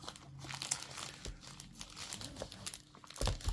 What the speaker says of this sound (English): the package arrives you from Itapec, arrives to me with this sort of plastic bag